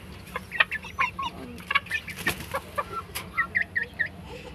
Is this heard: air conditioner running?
no